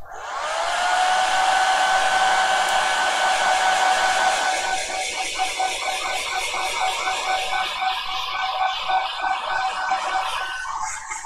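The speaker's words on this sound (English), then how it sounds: "I'll just go grab the hairdryer." A hair dryer, used on a painted miniature, switches on and blows loudly with a steady whirring hiss and high whine, then its pitch shifts and flutters as it keeps running.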